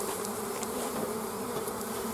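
A dense swarm of honeybees hums continuously and loudly at close range as they are shaken off honey frames from a hive super.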